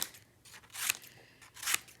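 Scissors cut through paper in two crisp crunching snips with softer rustling between them, close but quiet, with no speech.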